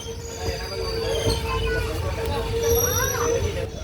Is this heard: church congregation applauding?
no